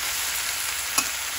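Pork hock sizzles in a pan with garlic and onion, a close, steady hiss of frying with one brief clatter near the end and no talking.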